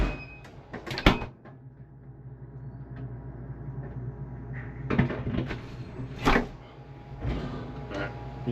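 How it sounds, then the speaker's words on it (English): Fridge doors swing and thud shut in a home, several sharp closing knocks spaced irregularly, one strong bang early followed by a few more, near and fairly loud with a low background hum. "my fridge said it is time to close the doors"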